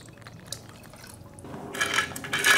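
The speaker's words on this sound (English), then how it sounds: "So I'm gonna dump my mercury straight from here, right into there." Mercury dumped into a water-filled tumbler for placer gold processing, giving a pouring, splashing liquid sound that starts quiet and grows louder and fuller over the last second, alone without talk.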